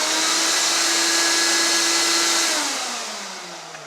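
A workshop dust collection system switched on by remote gives a loud, steady rushing roar with a faint tonal hum, then its pitch and volume sag as it spins down.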